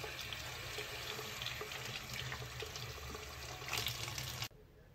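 Water runs steadily from a tap into a sink during face washing, a close continuous splashing rush that cuts off abruptly near the end.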